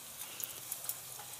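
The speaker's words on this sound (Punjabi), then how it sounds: "ਅਤੇ ਹੁਣ ਆਪਾਂ ਇਹਦੇ 'ਚ ਪਕੌੜੇ ਪਾਉਂਦੇ ਹਾਂ ਗੋਭੀ ਦੇ" Cauliflower pakoras frying in hot oil in a Punjabi-style kitchen, a soft continuous sizzle with faint crackles and pops, quiet and steady, no speech.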